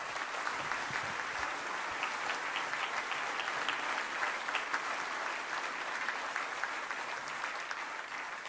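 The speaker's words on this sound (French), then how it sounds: "on applaudisse tous les élus de la ville de Toulon qui sont là présents" A crowd at a public meeting in Toulon's Zénith applauds the city's elected officials, with steady dense clapping sustained throughout at moderate distance.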